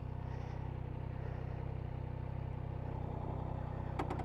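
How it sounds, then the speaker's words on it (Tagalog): A 2023 Triumph Trident 660 motorcycle engine idles smoothly and quietly, a steady low hum held evenly throughout, with a few faint clicks near the end. "Yung tunog nung kanyang makina, napaka-tahimik ba."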